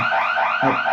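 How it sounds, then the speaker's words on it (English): A short, loud electronic alarm sounds in pulsing wavering tones, repeating twice within under a second, close and clear with no talk. "Sorry, that's my alarm setting here"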